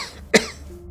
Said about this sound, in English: She coughs into her hands a raw and ragged hacking that bends her double.